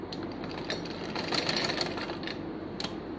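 A sewing machine stitching a homemade cloth mask, a close, continuous rapid mechanical whirr and clatter with a few sharper clicks, running steadily throughout.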